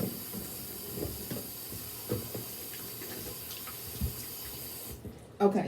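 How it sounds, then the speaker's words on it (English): A tap runs steadily into a sink during hand washing, a soft continuous hiss of water with faint splashes, close by and alone, ending abruptly with a brief clatter. "let me wash my hands"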